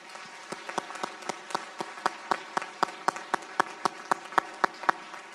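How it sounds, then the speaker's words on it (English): Sparse, sharp claps from a small graduation audience at Palm Valley School ring out in a steady, evenly spaced rhythm, fairly quiet and distinct with no talking over them. "Would you please join me in giving them a round of applause?"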